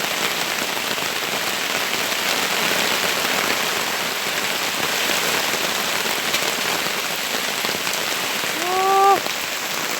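Steady rain pours down, a dense continuous hiss on a hard surface, with a brief bird-like call near the end.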